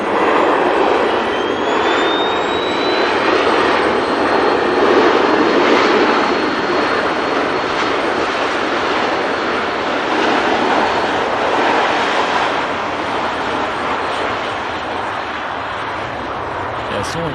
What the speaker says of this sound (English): that PC-24 really went out quick, didn't it?